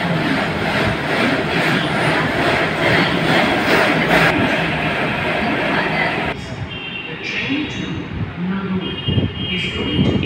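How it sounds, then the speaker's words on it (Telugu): Hyderabad metro train rolling past, a loud broad rushing roar with steady rumble that drops in level partway through, then continues under a quieter hiss. "ఈ మెట్రో ట్రైన్ వల్ల"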